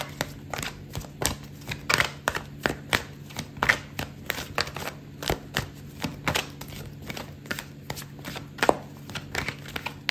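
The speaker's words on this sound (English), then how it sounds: "I'm going to pull out another card for you" Tarot cards being shuffled and drawn at close range, a quick run of crisp riffling slaps and flicks that repeat in bursts throughout, with no talk.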